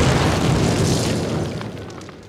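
Explosives detonate against a cinder block wall in a Call of Duty game, a single loud, broad boom that rolls and slowly fades over a couple of seconds.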